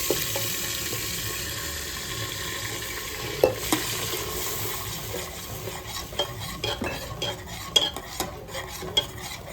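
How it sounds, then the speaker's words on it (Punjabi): A ladle stirs macaroni around inside a pressure cooker, giving steady scraping and stirring noise with faint sizzling and watery sounds, plus a few sharp clinks from metal against metal. "ਫਿਰ ਇਸ ਨੂੰ ਆਪਾਂ ਕੜਛੀ ਦੇ ਨਾਲ ਹਿਲਾਉਣਾ"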